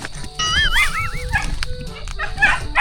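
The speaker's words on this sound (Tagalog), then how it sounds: "Meron po nakawalang aso." A dog yips and whines in short, high bursts by a fishpond, with a rising-and-falling whimpering cry among scattered background noise.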